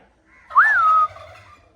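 A mare named Ambar gives one short, high, smooth neigh, near and fairly loud, with quiet surroundings before and after.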